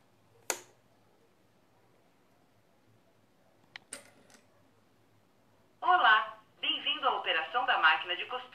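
A sewing machine's built-in electronic voice speaks after a few sharp clicks and button taps, its synthetic phrases coming through clearly and close for several seconds.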